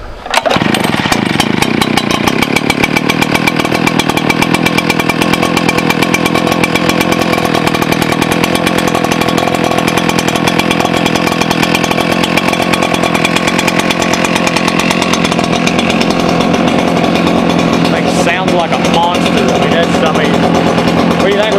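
An ECHO PB-8010 gas backpack leaf blower roars loudly and continuously at high revs, a steady buzzing drone with little variation throughout.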